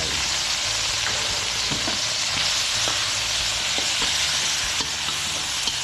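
Crocodile meat stir-frying with oyster sauce, garlic and chili in a hot pan, a steady loud sizzle with scattered clinks and scrapes of stirring throughout, no talking.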